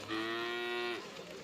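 A buffalo at a rainy cattle market gives one sustained, tonal moo that lasts just under a second and then fades into faint background noise.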